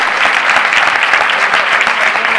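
Audience applauding a whole team at a Greek YES FORUM ten-year anniversary event, dense continuous clapping at steady loudness throughout, with no voices over it.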